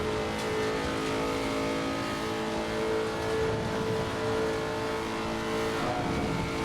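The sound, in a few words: race car engine revving, Nordschleife, Assetto Corsa Competizione video game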